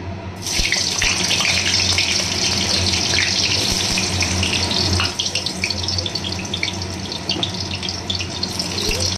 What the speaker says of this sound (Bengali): এবার আমি আলু আর পটলটাকে লাল লাল করে ভেজে নেব। কড়াইতে তেল গরম হয়ে গেছে